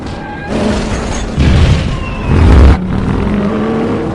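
Race cars roar off the line at the start of a race in the film Ready Player One, loud engine revving broken by two heavy booming surges amid dense cinematic noise, with no voices.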